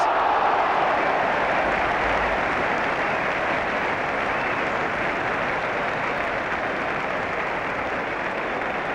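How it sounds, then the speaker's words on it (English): A large football crowd at a Manchester City FA Cup match applauds steadily throughout, a dense, continuous roar of clapping with no pauses. "Tremendous applause"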